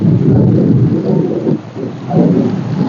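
Heavy rain roars steadily with low rumbling thunder swelling and fading, loud and close with no talk.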